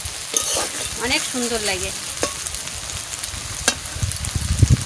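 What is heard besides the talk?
taro stolons (loti) frying with spices in a pan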